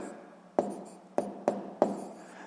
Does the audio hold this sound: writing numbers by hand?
yes